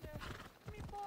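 A horse in Assassin's Creed Odyssey trots with quick, close clip-clopping hooves and gives a brief whinny, under a voice talking.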